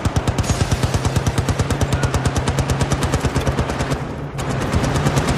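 Rapid automatic gunfire in the video game Battlefield Bad Company 2, a long unbroken burst of evenly spaced shots that drops off briefly near the end before resuming, loud and close with no voices.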